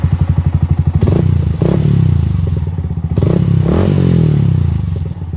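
A Yamaha Sniper 155 motorcycle engine, said to chirp on starting, cranks with a quick run of rhythmic thumps, catches and settles into a loud, close idle. Two short revs follow, with rattling mechanical clatter and no voices.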